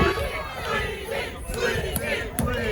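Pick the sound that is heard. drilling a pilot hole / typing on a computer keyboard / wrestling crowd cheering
wrestling crowd cheering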